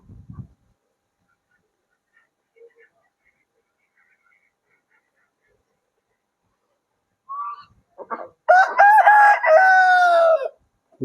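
A rooster at a farm science centre in Jagatsinghpur lets out one loud, close, drawn-out crow after a few seconds of near silence with faint scattered sounds.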